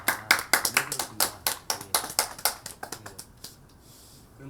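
Audience clapping at a community talk event honoring an elementary school teacher, a burst of distinct hand claps that thins out and fades to near silence.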